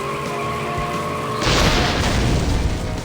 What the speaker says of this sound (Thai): นี่ไงระเบิด